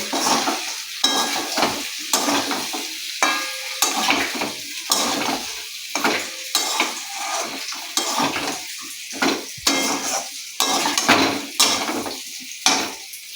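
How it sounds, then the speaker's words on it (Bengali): Fried shrimp stirred in a frying pan, with repeated scraping and clinking of a utensil against the pan over steady sizzling, close and fairly loud in an irregular rhythm. "তারপরে এই চিংড়ি মাছগুলো দেওয়ার পরে আমি 5 মিনিট মতো একটু ভালো করে নাড়বো"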